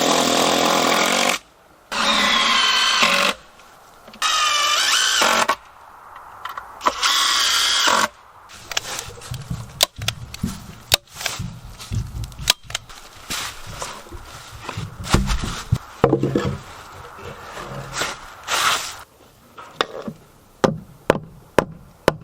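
Power saw cutting old pressure treated deck lumber, several loud bursts of whining cutting separated by pauses, then knocks and handling noises close up.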